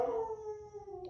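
A pet dog lets out a single drawn-out howl with a slowly falling tone, clear and close, fading near the end, with no talk over it.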